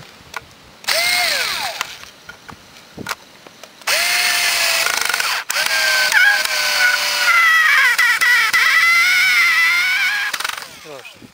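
A regenerated cordless drill-driver drives a screw into wood in several loud bursts, its motor whining and rising in pitch, with a long sustained run of steady whine toward the end and a voice talking in between.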